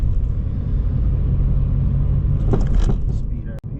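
A car's engine under a slowly applied throttle at a green light, a steady low rumble close by, with a brief louder passage near the end and no talk over it.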